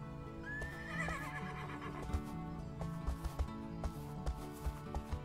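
A horse in the video game My First Horse whinnies with a rising neigh near the start, then clip-clops in a steady rhythm of hoof beats over continuous game music, with no talk.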